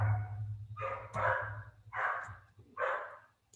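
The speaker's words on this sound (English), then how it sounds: "she was barking at a non-functioning vacuum" An Australian Shepherd barks at a vacuum cleaner that is switched off, letting out four loud, close barks spaced roughly a second apart, with no other sound between them.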